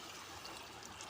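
Water poured into a pan of egg curry, a soft steady splashing trickle lasting about a second, close and fairly quiet.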